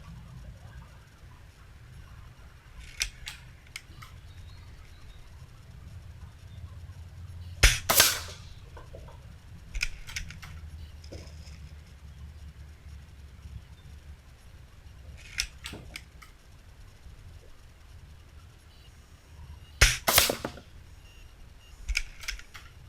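SMK Beeman Jackal 2066 .22 air rifle fired outdoors at tin cans, with a few sharp, isolated cracks and pings spaced several seconds apart over a quiet background.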